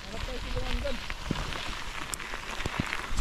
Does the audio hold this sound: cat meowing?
no